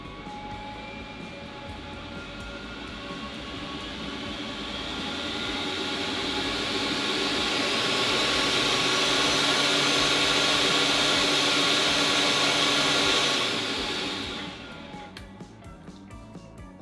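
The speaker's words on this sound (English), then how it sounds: "Let's go ahead and gradually turn it up and we'll hear how loud it gets." A Kotto fume extractor fan gradually turned up: a steady airy whoosh rises in pitch and loudness, holds at full speed like a jet spooling up, then drops off as it is turned down near the end.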